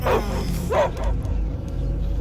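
Barks and yips from a dog in the Guardians of the Galaxy video game come close and loud as a few sharp bursts over a low rumbling background.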